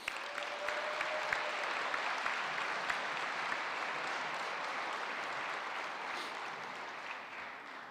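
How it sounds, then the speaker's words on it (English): Sustained audience applause fills a basketball jersey retirement ceremony at Cary Academy for Trey Murphy III, a dense steady wash of many hands clapping that holds evenly and fades slightly at the end. "So please give him a round of applause."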